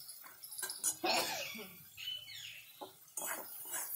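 A metal spatula stirs tomatoes in a pan, producing soft scraping and clinking strokes in short bursts, mixed with light laughter and household noise.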